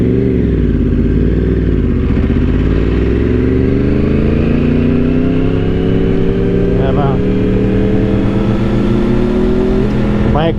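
Yamaha R1 and Honda CBR1000RR sport motorcycles accelerate hard, their engine notes rising steadily in pitch through the gears under loud wind roar, close and continuous with no break.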